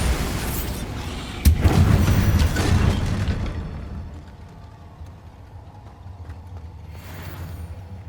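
Spell blasts from Confringo and Bombarda in Hogwarts Legacy: a sharp crack at about 1.5 seconds, then a loud, rumbling explosion that trails away, with fainter magical hum and a softer burst near the end.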